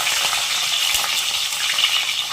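Long-sliced garlic, about a quarter cup, sizzles and crackles in hot oil as it cooks for a bitter-free lemon pickle, with a steady close frying hiss and light stirring clicks throughout.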